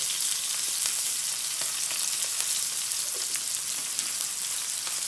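Steak frying in butter with garlic and rosemary, a loud continuous crackling sizzle close up with scattered sharp pops, no talking.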